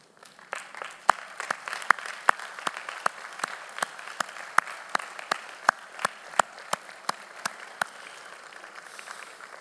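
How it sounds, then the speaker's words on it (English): A commencement audience applauds in a large hall, the clapping fairly distant and moderate, with individual sharp claps standing out over a steady patter that continues throughout. "give them a round of applause for the help they've given you over the last few years."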